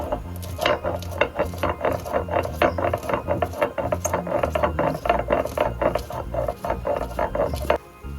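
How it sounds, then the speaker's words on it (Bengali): Roasted spices ground on a traditional stone slab (shil) with a stone roller, producing close, rhythmic back-and-forth grinding and rasping strokes in quick repeated bursts, with no talking. "তারপর শিলে বেটে গুঁড়ো করে নেব।"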